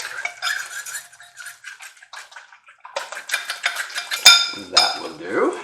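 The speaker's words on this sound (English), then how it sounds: "then you want to fully incorporate the mayo into the egg" A utensil clinks and scrapes against a bowl while mayo is stirred into egg, giving irregular metallic taps and wet mixing sounds, louder toward the end.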